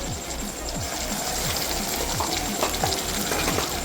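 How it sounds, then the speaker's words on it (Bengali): Ginger, onion, garlic, green chilli and ground cumin-coriander paste sizzle in a pan for dal tadka, a steady close crackling hiss with faint clinks of a stirring utensil. "আদা পেঁয়াজ রসুন খুব ভালো মতো করে ফ্রাই করা হয়ে গেছে, সাথে কাঁচা লঙ্কা। এরপর দিয়ে দিচ্ছি বেটে রাখা জিরে ধনে বাটা।"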